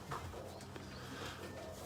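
A Carlos Dextera racing pigeon gives soft, faint coos while being handled in a race loft, low murmuring calls against quiet background noise.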